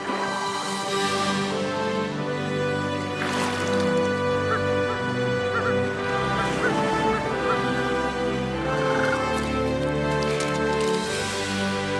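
Penguins call continuously in a colony on Penguin Island, Australia, a loud, dense chorus of honking, braying cries layered together, close and unbroken throughout.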